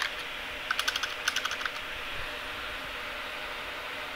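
Quick burst of about eight crisp keystrokes on a computer keyboard while typing a chat command in the game Space Station 13, then a steady faint hiss with no talking.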